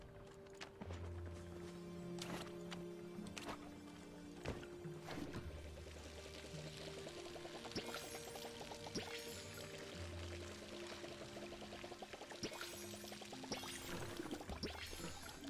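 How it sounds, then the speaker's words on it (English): Water pours in gentle repeated splashes as crops are watered in the Palia video game, soft and near, set against light plucked game music with no talk. "Let's go ahead and water."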